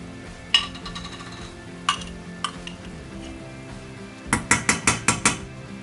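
A spoon stirs chopped spinach with mustard in a bowl: a few scattered clinks of utensil against the dish, then a quick run of six sharp, evenly spaced taps and scrapes near the end.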